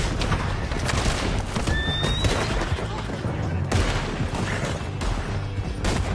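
A horse neighs sharply amid loud battle noise with rapid gunfire and hoofbeats, a busy, dense soundscape from the video game Red Dead Redemption 2.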